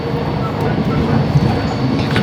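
Riding inside a train, a steady loud rumble of wheels and carriage fills the whole stretch, with a few faint rhythmic clacks and a brief squeal near the end.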